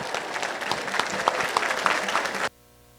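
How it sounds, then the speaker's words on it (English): An audience at a parish meeting applauds the seniors, a dense burst of clapping from a crowd that stops abruptly after about two and a half seconds. "All right, all the seniors, give them a round of applause."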